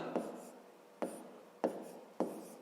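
Four short, crisp pen strokes scratch across paper during a fifth-grade maths exercise, spaced roughly half a second apart, each starting sharply and fading quickly. The sound is close and quiet, with no talking.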